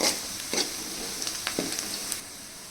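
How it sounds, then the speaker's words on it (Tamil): Garlic sautés in a pan until it colours for a South Indian garlic curry: a soft, steady sizzle with a few light stirring scrapes, fairly quiet and with no talking. "நம்ம எடுத்து வச்ச பூண்டு, கலர் மாறுற வரைக்கும் வதக்கிக்கலாம்."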